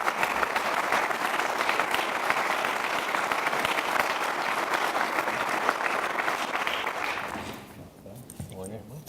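An audience at a business development annual meeting applauds the governor of Vermont, sustained, dense clapping at close range that fades out near the end, with voices emerging as it dies down.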